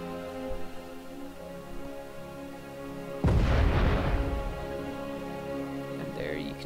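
A HEAT torpedo detonates against a ship in Space Engineers: a sudden loud explosion bursts in after a hum, then rumbles and fades over a few seconds.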